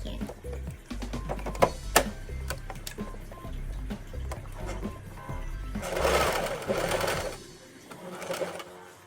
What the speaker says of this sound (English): So we're gonna start sewing this end corner.